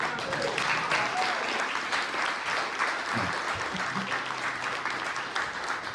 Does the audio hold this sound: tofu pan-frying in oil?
no